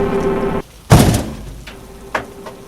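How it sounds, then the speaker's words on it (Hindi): A door is tried and pushed open, a loud sudden thunk and rattle close by after a drone cuts out, followed by a softer knock a moment later in a quiet room. "अमन वापस वहां जाके दरवाजा खोलने की कोशिश करने लगता है"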